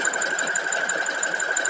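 Sewing machine stitching a mini quilt wall hanging, a steady rapid mechanical whir with a fast even pulse, close and continuous without talk.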